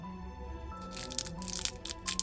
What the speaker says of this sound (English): And now we're going to go ahead and add our ice cubes.